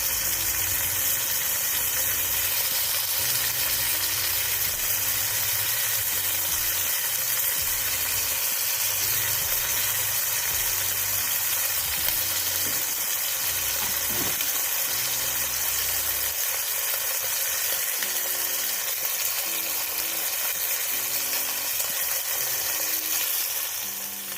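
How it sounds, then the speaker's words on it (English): Pot roast beef sears in a hot pan, giving off a continuous loud sizzle and crackling hiss with a low steady hum beneath, and no talking. "So sear it on both sides."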